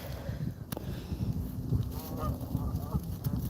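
Geese honking by a lake, a busy chorus of nasal calls overlapping at close to middle distance, steady and fairly loud over a low background rumble.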